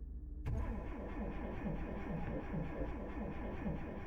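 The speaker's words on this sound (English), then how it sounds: "As the sound of the engine failing to start rang out" A car engine cranks over and over in a rapid, repetitive churning rhythm, straining without catching, close and steady throughout.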